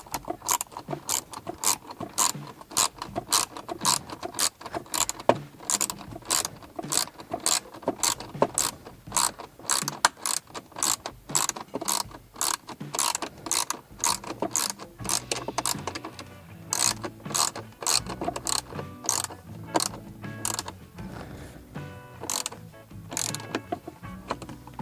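A ratchet wrench turns a screw on a SAAB 9-5 New Generation during cabin air filter replacement. Rapid, close, regular clicking bursts repeat for a long stretch, then slow into scattered rattles near the end.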